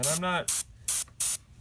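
Paint hisses from an adjustable spray nozzle onto miniature terrain in three short, sharp, close bursts, right after a man's brief speech.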